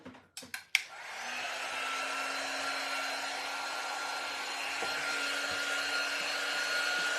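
Hair dryer blowing on a chalk craft project: a few sharp clicks as it switches on, then a steady, fairly loud whirring hum with a constant tone that holds without break.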